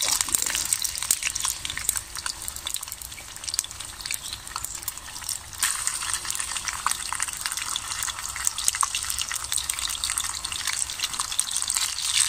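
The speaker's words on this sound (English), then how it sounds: "so let's get the bacon on" Bacon sizzles steadily in a stainless steel Swedish army mess kit over heat, a continuous bright hiss and crackle with no talk.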